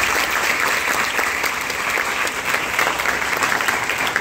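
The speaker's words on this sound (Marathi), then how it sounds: "यांच्यासाठी आपण सर्वांनी मिळून एकदा टाळ्या वाजवा" A student guidance gathering breaks into loud, sustained applause, with the dense clapping of many hands continuing evenly from start to finish.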